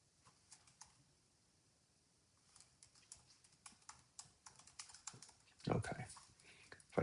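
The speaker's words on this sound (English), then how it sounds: "if I can get my typing to behave" Soft, irregular tapping of computer keys in quick clusters, faint at first and growing busier, with a louder thump near the end.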